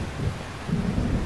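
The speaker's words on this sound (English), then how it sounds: "I just really hate thunder" Thunder rumbles in the video game Xenosaga, a loud continuous low roll with a slight rain-like hiss over it and no voices.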